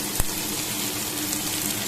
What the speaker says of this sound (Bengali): আমি খুব বেশি ভাজা করব না সবজিগুলোকে